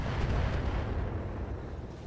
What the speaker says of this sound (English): We hit it with the auto cannon there.